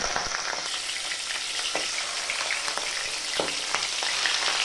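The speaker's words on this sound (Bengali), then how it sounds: "তেল গরম হয়ে গেলে মাছের পিসগুলো একটা একটা করে তেলের মধ্যে দিয়ে দেব" Pieces of katla fish fry in hot mustard oil in a kadai over medium gas, a dense continuous sizzle with occasional sharp crackles and utensil taps, no talking.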